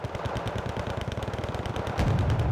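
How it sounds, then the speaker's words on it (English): Rapid, rattling bursts of minigun fire from fast-firing cannons in the real-time strategy game Wargame Red Dragon, a dense continuous stutter of shots with heavier low-end impacts near the end. "Oh, I love the sound of those miniguns."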